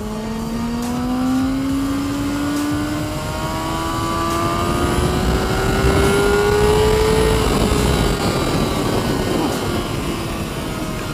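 A motorcycle engine, a tuned bike with added parts, drones steadily while riding, its pitch climbing gradually over a sustained rush of wind noise.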